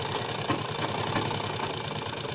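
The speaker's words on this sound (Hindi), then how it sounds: "जड़ में हमारे बुकरम की इस तरीके से सिलाई हम चारों तरफ चला के दिखाएंगे" Sewing machine stitching buckram around a neck design, a steady rapid mechanical whirring and ticking, moderately quiet and continuous without pause.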